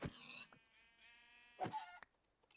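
Two short sheep bleats in a survival video game, close and clear, separated by a brief pause, with a faint tonal game-like hum underneath.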